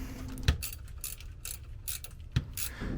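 A ratchet clicks in short bursts while tightening the two bolts on a transfer case shifter bracket during clutch reassembly on an OBS Ford with a ZF5 transmission, with sharp metallic clacks in between.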